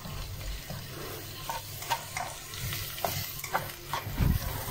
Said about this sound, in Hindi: तो ये पहले हमने ऑयल गरम करना है, फिर उसमें हमने अनियन फ्राई करनी है।